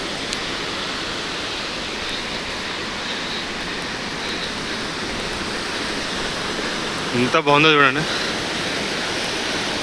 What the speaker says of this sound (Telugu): water falls